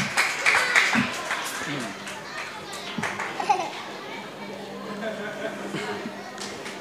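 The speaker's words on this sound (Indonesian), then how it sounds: "Tepuk tangan untuk Ananda Muhammad Hasbi Maulana." Applause and clapping from an audience of children at a children's preaching contest, with kids' chatter and voices throughout, the claps scattered and fading over several seconds.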